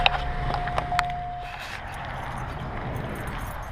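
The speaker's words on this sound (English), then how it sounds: "Another set of keys." A set of keys jangles close by in a garage beside a Chevrolet Chevette, several bright metallic clinks in the first second and a half, then low rumbling background noise.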